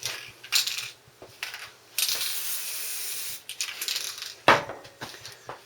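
Spray gun laying a first coat of paint on a Triumph in a home garage, heard as several bursts of broad hissing spray of a second or more each, separated by quieter gaps.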